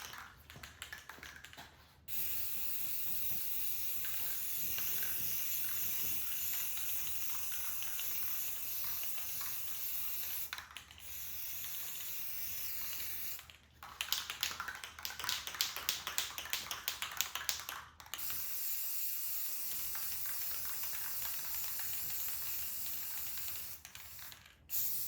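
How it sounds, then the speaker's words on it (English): Long bursts of spray paint hiss from an aerosol can, stopping and starting several times with short pauses, close and fairly steady, no talking. "Spray paint never really covers very good"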